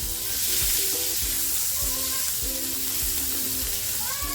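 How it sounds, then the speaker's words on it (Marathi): Chopped onion tipped into hot oil already holding bay leaf, cloves, cinnamon and black pepper, sizzling loudly and steadily close by, with a bright hiss, low bubbling pops and a few stirring knocks, and no voices. "आता जो कांदा कापून घेतला होता ना तो टाकते"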